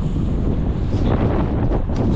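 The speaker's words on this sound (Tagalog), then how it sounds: "ang sarap ng hangin" Strong wind rushing past the microphone along a road at Vermosa, Daang Hari in Imus, Cavite, a loud continuous roar with low buffeting that holds steady throughout the short stretch.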